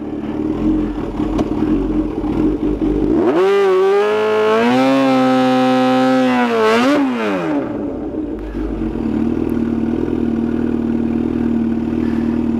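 A Kawasaki ZH2 motorcycle idles at a drag strip, then revs sharply and holds high during a dry hop before dropping back to a loud, steady idle close by.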